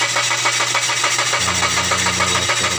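A Mazda 3 engine cranks without catching, a steady loud churning drone with a pitch shift partway through, heard alone at close range.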